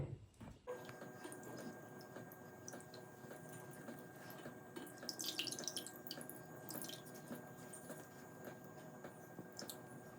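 Urad dal being washed in water gives a quiet, continuous splashing and swishing with occasional drips and trickles, faint and close, with no voices heard.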